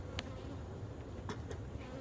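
A steady, dense buzz of many honey bees fills the scene up close inside an open hive box holding the queen, with a few sharp clicks and taps breaking through.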